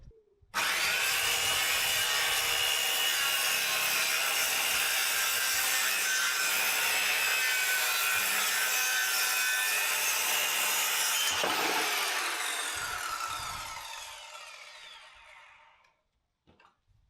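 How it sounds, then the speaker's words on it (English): A handheld circular saw or jigsaw cuts through a piece of wood for a hot tub deck, a loud, continuous close whine with rasping that holds for about eleven seconds, then winds down and fades out. "so I had to use the jigsaw and then the handheld circular saw to trim down a piece"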